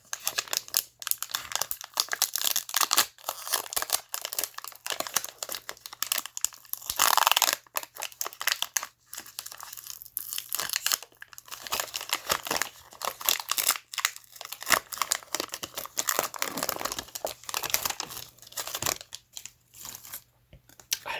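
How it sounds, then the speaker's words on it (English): Foil Pokemon card packs are torn open and handled close up, giving a steady run of crisp crinkling and tearing rustles with brief pauses, with no speech. "one of the more satisfying sounds that I'm getting out of these is opening those packs up"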